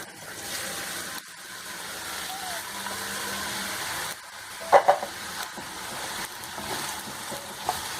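Grated carrot for gajar halwa sautés in a pan, a faint, steady sizzle with occasional clinks and stirring scrapes, while a person talks over it.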